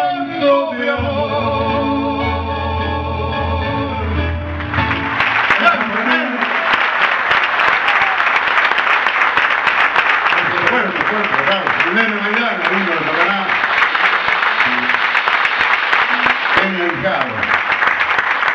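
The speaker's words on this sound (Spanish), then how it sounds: "Yo quiero que entiendan ese aplauso." Sustained applause from an audience at a live concert breaks out after the final sung notes of a song, a dense steady clapping that continues for many seconds close and loud.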